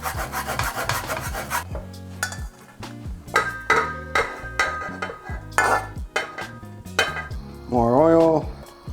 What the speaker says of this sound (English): if you have a nice spatula, such as this, you can scrape it off